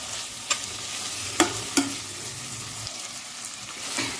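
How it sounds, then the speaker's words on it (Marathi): Large chunks of tomato frying in a pan of pulao masala, a steady soft sizzle with a few sharp clinks of a spoon stirring, heard close with no talking. "मी याच्यामध्ये टाकून घेते एक टोमॅटो जो मी मोठा मोठा कट करून घेतलेला आहे याला मस्त फ्राय करून घेऊ आपण"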